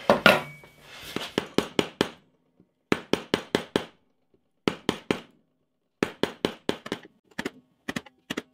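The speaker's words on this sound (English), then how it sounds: "after a few bashes with the old hammer, I managed to get that nice and flush" Sharp hammer strikes land in quick bursts of three to five blows, separated by short pauses, loud and close with no talking.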